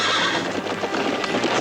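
Horses neigh and whinny with hooves clip-clopping beneath, a loud, close, busy burst from several animals being dispersed in a Pony Express western scene.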